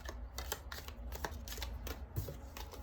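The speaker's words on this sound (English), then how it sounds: "Let's give them a bit of a shuffle first." Tea leaf fortune cards are shuffled close up, a quick rapid run of soft papery riffling clicks repeating steadily with no talk.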